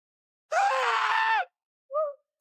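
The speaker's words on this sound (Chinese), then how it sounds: "一边惨叫一边逃跑" An astronaut in a sci-fi film flees a monster on an unknown planet after a spaceship crash, letting out one long, loud, strained scream followed a moment later by a short, sharp cry.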